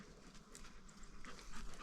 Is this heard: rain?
no